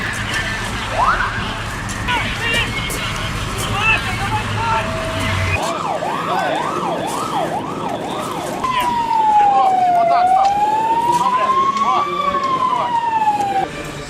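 A fire engine siren wails, rising and falling, then shifts to a slower sweeping tone, loud over traffic noise with some voices in the background, during a railway emergency drill in Lviv.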